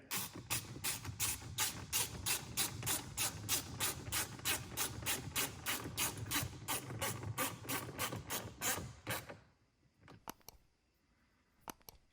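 A ratchet rapidly clicks while tightening 7mm bolts inside a Ford F-150 cabin, a long, even run of close, loud clicks that stops after about nine seconds, followed by a few faint handling taps.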